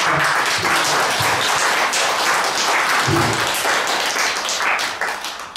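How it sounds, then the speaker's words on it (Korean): A crowd at a Buddhist monk's book launch claps warmly, a thick, continuous round of applause with some scattered louder claps, tapering slightly near the end. "오늘 신택사와 우리 효탄 스님을 위해서 큰 박수 한번"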